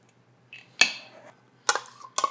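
Almond flour cookie dough being mixed with maple syrup in a bowl: a few distinct clinks and scrapes of a utensil against the dish, spaced apart over quiet pauses, close and fairly clear.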